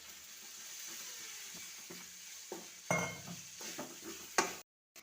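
Spice powders and garam masala being stirred in a pan for crab roast, a faint steady sizzle with a few soft scrapes and clinks of the spoon, then a brief cut to silence.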